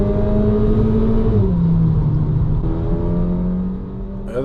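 A 2006 VW Golf V GTI with a DSG gearbox accelerates hard, its engine note rising smoothly, dropping briefly at a gear change and climbing again, loud and close before easing off near the end.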